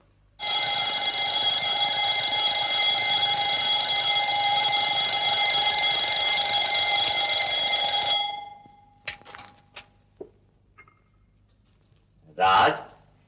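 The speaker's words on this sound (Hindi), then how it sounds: "कब से अलार्म चिल्ला रहा है" An alarm clock rings loudly and continuously for about eight seconds with a steady metallic tone, then stops, followed by faint movements and a brief voice near the end.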